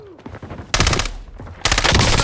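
Rapid automatic gunfire from a Kogot-7 weapon in a video game, two loud sustained bursts of fast shots, the second starting right after the first ends, over a busy background of game sounds.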